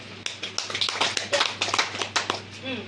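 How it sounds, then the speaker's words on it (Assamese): A Bengali-speaking market talk audience claps together in a short burst of dense applause, many hands patting at once for under three seconds, moderately loud, with speech mixed in. "এটা জোৰদাৰ তালি হ'ব লাগে।"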